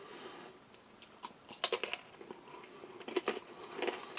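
Crisp crackers from a Russian Shturm military ration being chewed up close, with irregular bursts of crunching and biting spread across a few seconds.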